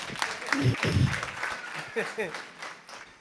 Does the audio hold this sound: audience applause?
yes